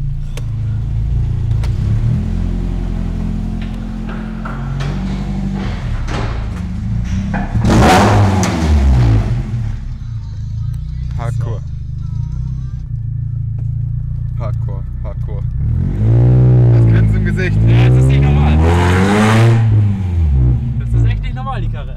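BMW E36 fitted with a V10 engine, rumbling deep at idle then roaring loud through two hard acceleration bursts with rising revs, voices talking over it.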